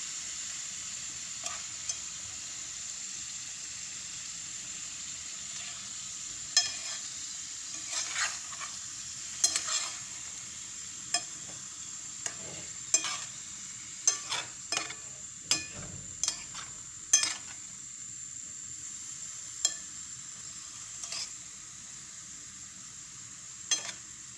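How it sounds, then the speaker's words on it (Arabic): Meat frying in oil in a pan for homemade tacos, a steady soft sizzle with occasional louder crackles and stirring scrapes, close and alone with no talk. "هكذا خياتي كما راكم تشوفوا، خلوه يتقلى"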